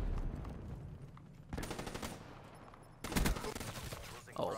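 Automatic HVK-30 rifle fire in a first-person shooter video game, arriving as separate loud bursts of rapid shots with quieter game ambience between them.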